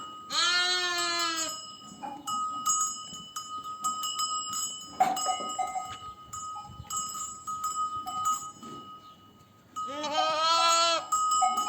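Sheep and lambs bleat on a farm as a lamb that has lost its mother cries out; loud, wavering bleats open and close the stretch, with fainter calls and clinking bells in between.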